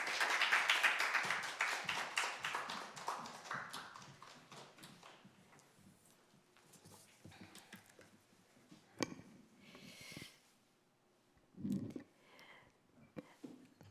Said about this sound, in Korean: 우리 나오실 때 크게 박수하며 격려하겠습니다.